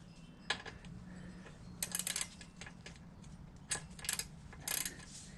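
A ratchet snugs the fender bolts during a Paul Yaffe Thicky fender install on a 2018 Harley-Davidson Sport Glide FLSB. Several short bursts of crisp, close clicking stand out over a quiet background hum, with pauses between them.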